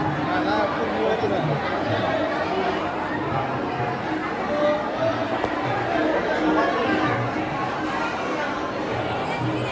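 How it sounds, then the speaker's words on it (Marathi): Dense crowd chatter fills the Akkalkot Swami temple grounds on a busy Thursday, a steady babble of many voices close around with no single speaker standing out, continuous and moderately loud throughout. "फुल गर्दी आहे जाम गर्दी."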